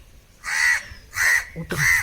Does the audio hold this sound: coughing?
no